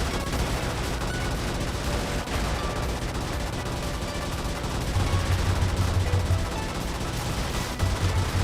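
Dense bursts of .50 cal heavy machine gun fire from a vehicle rolling through a jungle in the top-down game Brigador, loud and sustained, with rapid rhythmic volleys over a constant engine rumble.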